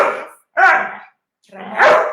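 Dog barks in short bursts, three separate yelps or barks spaced about half a second apart, fairly close and loud, with a voice speaking around them.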